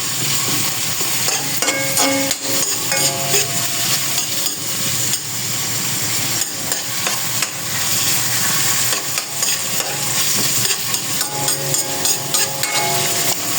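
White onion cooking down in a pan toward caramelizing for chicken adobo, a loud close sizzle broken by repeated scraping and stirring clatter from a utensil against the pan.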